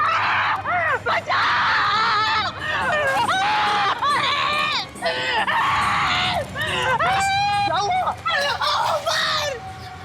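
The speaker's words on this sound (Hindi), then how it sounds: "क्यों चिल्ला रहे हो?" Several people scream loudly and continuously in a frightened uproar, overlapping shrill cries rising and falling over a restless crowd din during a night-time horror drama scene.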